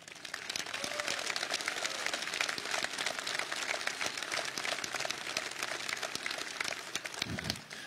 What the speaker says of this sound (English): Please give yourself an incredible round of applause.